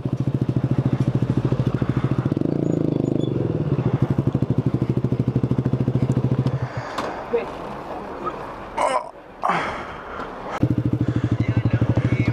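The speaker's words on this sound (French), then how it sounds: "course moto hybride qui finit mal" Motorbike engine in a hybrid motorcycle race, a steady close buzzing drone for several seconds, then broken by thumps and clatter around a mishap before the engine resumes loudly.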